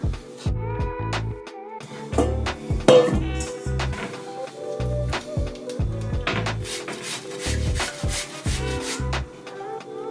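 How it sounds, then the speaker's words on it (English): Half an onion being grated for sweet and sour pork, rhythmic scraping strokes against a grater with occasional clinks of metal, close and moderately loud, with no talking. "Okay, so I finished grating the 1/2 onion."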